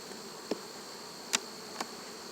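A faint, steady buzzing of many honeybees droning together during a hive inspection, with a few soft clicks and taps breaking through.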